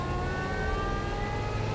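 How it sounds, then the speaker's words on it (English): A supercharged car engine roars steadily at high revs, a loud sustained drone with rising harmonic whine as it accelerates, no voices. "this is a supercharged car"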